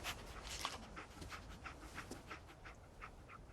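Dog companion in the Fallout 4 video game panting steadily, a rhythmic series of quick, breathy huffs close up, running the whole time with no talking.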